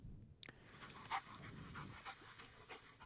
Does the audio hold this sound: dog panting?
yes